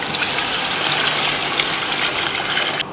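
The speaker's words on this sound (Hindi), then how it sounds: "फिर इसके बाद हम इसमें पानी डालेंगे। पानी हमने नाप के रखा था" Measured water poured steadily into a pot of browning beef pulao, a continuous close gushing splash that runs without pause and cuts off near the end.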